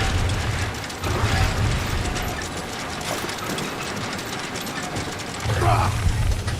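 Heavy cannon dragged into place in the Guardians of the Galaxy video game, a grinding, ratcheting mechanical scrape with low rumbling bursts, loud and continuous alongside game music and effects.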